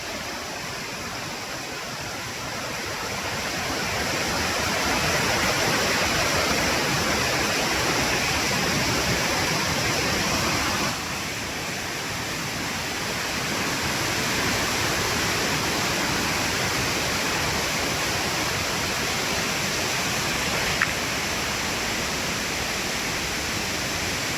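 Kothapalli waterfall near Vizag tumbles down in a steady, loud, broadband rush of falling water that carries on unbroken, with no talk over it.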